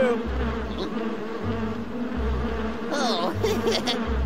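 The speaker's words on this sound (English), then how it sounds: "Our bee friends are circling around Logger Vic!" Cartoon bees buzz and circle around a logger, a loud continuous droning hum that swells and wavers in pulses as they fly close by, with no talk.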